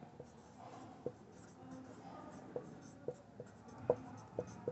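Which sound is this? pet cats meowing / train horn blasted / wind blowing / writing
writing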